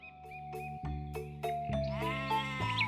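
An old goat bleats several times in a children's fairy-tale setting, short wavering cries spaced apart and fairly close, standing clear over a soft tonal background.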